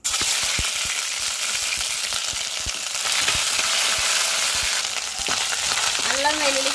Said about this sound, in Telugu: వేడైంది కదా అల్లం వెల్లుల్లి పేస్ట్ వేసేసుకున్నాం